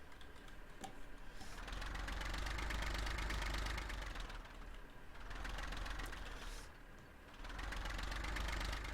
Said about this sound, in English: like size tractors that will sit running there. Just, they've all got the same engine note.